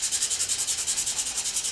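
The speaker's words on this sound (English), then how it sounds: "I'll be using wood sandpaper" Rhythmic back-and-forth scratching of coarse-grit sandpaper on wood, about ten quick strokes per second, close and fairly quiet, with no talking.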